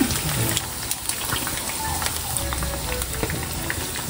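Calamares frying in hot oil in a home kitchen, a steady crackling sizzle with scattered pops as the pieces are lifted out, fairly loud and continuous throughout with no talk.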